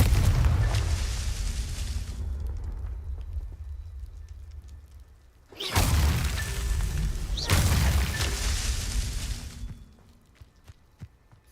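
Two booming fiery explosions from the Confringo spell in the video game Hogwarts Legacy, each a loud sudden blast followed by a roaring, crackling rumble that decays over a couple of seconds, with quieter ambience between.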